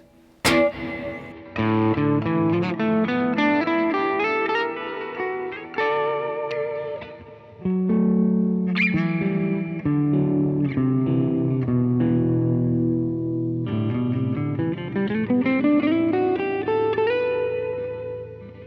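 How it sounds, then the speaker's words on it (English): An electric guitar through a Universal Audio reverb pedal with pre-delay plays chords and melodic lines drenched in long, spacious reverb with a slight delayed onset, notes blooming and trailing behind each strum. "it's a pre-delay, so it's actually adding a delay before the reverb"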